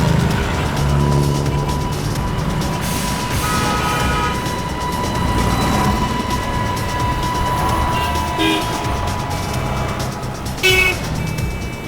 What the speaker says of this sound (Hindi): लगता है यही गाड़ी है सफेद वाली।